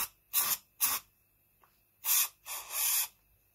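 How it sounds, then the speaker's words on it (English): Short hissing bursts of spray grease aimed into the lid of a Dansette FM stereo cassette player, two quick puffs, a pause, then two longer sprays, close and fairly loud with no talk. "So we'll get the grease, we'll spray some into the lid."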